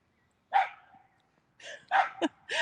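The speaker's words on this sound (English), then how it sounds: "Ignore that awful barking." A dog barks several times in short, sharp bursts: one bark, a pause, then a quick cluster of three, moderately close with no talking.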